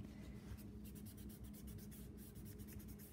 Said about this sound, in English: I'm gonna blend this out just a little bit with my pencil